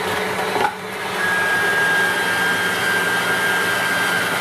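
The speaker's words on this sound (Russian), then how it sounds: "мясорубка Зельмер. Довольно быстро проходит этот процесс." A Zelmer electric meat grinder whirs steadily with a high motor whine, briefly dipping near the start before running at constant, fairly loud speed while grinding meat for potato sausage.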